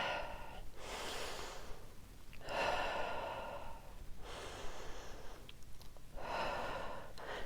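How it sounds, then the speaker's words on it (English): Slow, deliberate breaths during a Pilates reformer exercise, drawn in through the nose and pushed out through the mouth, four long airy cycles close to the microphone with brief pauses between them. "In through the nose, out through the mouth with that breath."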